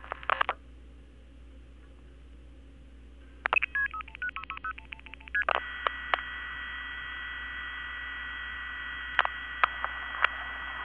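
Telephone keypad dialing, a rapid run of DTMF tone beeps over a steady line hum, followed by a sustained tone on the line with a few more isolated beeps, no speech.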